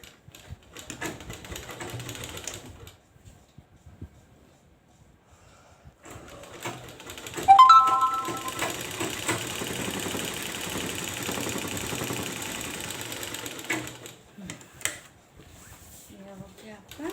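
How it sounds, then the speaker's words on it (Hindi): Sewing machine stitching the seam of a gents' kurta, a mechanical whirring run that starts and stops in several bursts between quieter pauses. "दूसरा तरफ भी आपको ऐसा ही सिलाई मारना है।"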